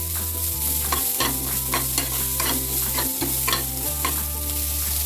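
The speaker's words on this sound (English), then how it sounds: "We'll add onion to it. We'll fry it" Onion frying over a high flame for crispy gobi manchurian, a steady loud sizzle with repeated scraping stirs of a spoon against the pan every half second or so, and a low background hum throughout.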